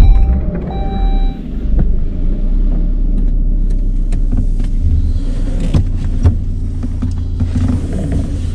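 A Saab 9-5 drives along on a test drive after a rear brake pad replacement, with a steady low road rumble and interior hum, a few mechanical clicks and creaks, and a brief tone near the start.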